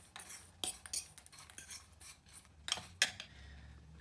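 A spoon stirs chopped nuts, dried fruit and cinnamon in a bowl for Egyptian Om Ali, giving quiet irregular scraping and clinking strokes with short gaps, close but faint.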